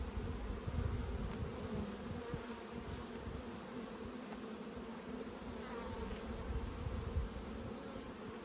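A dense, steady buzz of many Buckfast bees humming close by in an open hive during an inspection, continuous and fairly loud, with faint handling knocks underneath as frames are pushed together.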